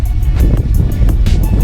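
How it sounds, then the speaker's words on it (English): Strong outdoor wind buffets the microphone beside a Silverado with an LS engine being worked on, producing loud, low rumbling gusts throughout with no speech. "Really windy out here."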